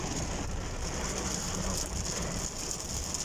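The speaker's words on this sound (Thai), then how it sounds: "ฝนมาตกวันนี้" Heavy rain falls in a steady, dense patter over Bang Bua Thong, Thailand, a continuous wash of noise with no voices.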